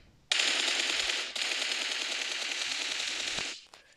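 Automatic gunfire in PUBG Mobile: a sustained, rapid burst that breaks off briefly, then resumes as a second long burst. Loud and close, with no talk over it.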